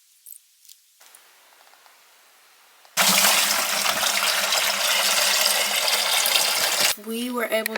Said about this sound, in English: I'm going to pour this water out into a watering can